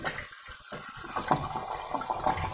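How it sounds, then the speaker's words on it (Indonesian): An aquarium water pump runs in a planted aquascape tank, water gushing and splashing steadily and close by throughout, with no talk. "Nah ini pompa hasil airnya udah mulai turun ya. Nih udah berfungsi airnya"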